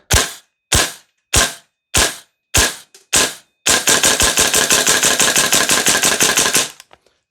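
A VFC V3 URGI M4 gas blowback airsoft rifle fires six sharp single shots at even intervals, then a rapid full-auto burst of about twenty shots, loud and close.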